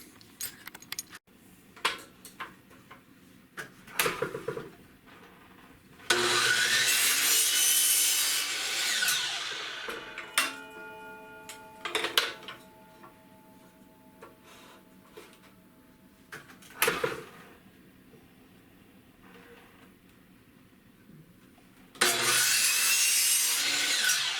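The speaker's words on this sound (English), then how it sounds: "next we're going to cut the PVC to the length" A handsaw cuts through PVC pipe to length for a crabbing trotline prop-stick, with two sustained bursts of rasping strokes close by, separated by quieter handling knocks and rubbing.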